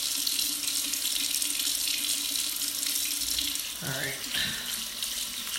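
A bathroom or sink tap runs steadily while hands and face are rinsed during a skincare routine, a continuous hiss of water close by, with a brief splash of rinsing near the end and a short spoken word.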